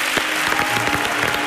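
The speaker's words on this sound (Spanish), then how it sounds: "le pido al Rivera del Guadaira que le ofrezca este grandísimo aplauso" A theatre audience at a talent show grand final claps steadily, a dense, even burst of applause with no voices over it.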